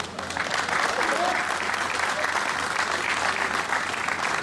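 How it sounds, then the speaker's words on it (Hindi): Audience applause rolls through a cricket tournament's awards ceremony, a steady, fairly dense clapping from a sizable crowd sustained across the whole stretch, heard at some distance with a low hum beneath. "ये तालियों से आपकी मकबूलियत का पता लग रहा है"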